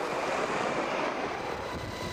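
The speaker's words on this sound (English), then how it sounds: "Flying ahead of the convoy, looking for Iraqi positions, were heavily armed Apache attack helicopters." Heavily armed Apache attack helicopters fly ahead of a military convoy in Iraq, heard as a steady, broadband rotor and engine roar with wind noise, constant and fairly loud throughout.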